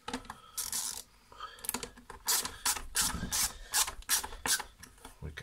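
Close, faint scraping and ratcheting clicks of a T15 Torx screwdriver driving screws to close a Nespresso Pixie coffee machine, in short irregular bursts.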